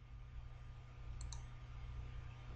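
A computer mouse gives two quick, faint clicks close together over a steady low hum, with no voices.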